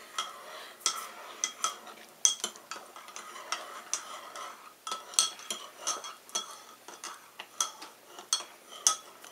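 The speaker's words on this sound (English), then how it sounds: "then I stir it." A spoon stirs sweetened matcha green tea in a cup, making light, quick clinks and scrapes in an irregular rhythm, close and quiet with no talking.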